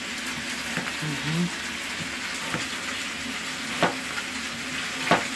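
Steady sizzling of onion frying in a pan, with occasional clicks and scrapes of stirring close by, a faint hum underneath.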